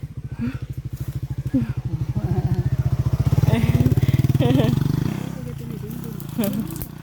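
A motorcycle engine putters steadily nearby and swells as it passes close, its rhythmic exhaust beats heard under excited chatter from people on the roadside.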